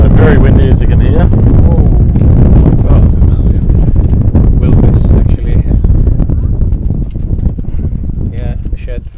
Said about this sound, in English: So very windy, as you can hear.